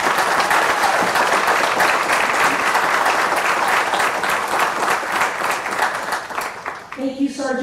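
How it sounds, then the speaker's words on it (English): Steady, full audience applause after a Marine Corps drill display at a veteran and small business trade show summit, sustained for several seconds and fading as a voice begins speaking at the end. "Please give them a round of applause."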